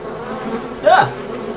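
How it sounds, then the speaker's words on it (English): Bees buzz in the VR horror game Don't Let Go on an Oculus Rift DK2, a short, sharp rising buzz passing close over a low steady hum, with no talk. "There's a lot of bees."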